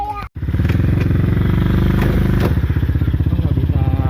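A motorcycle engine idles roughly and loudly nearby, its uneven thudding pulse chugging steadily after a brief cutout at the start, with people's voices faintly mixed in.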